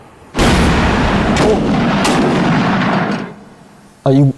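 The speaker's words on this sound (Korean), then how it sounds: "잠입한 북한 게릴라군이 대구역에 박격포탄을 쏜 거예요" Mortar shells fired on a train station, a loud close blast followed by a sustained rumbling roar with a few sharper bangs inside it, fading after about three seconds before a brief sound at the end.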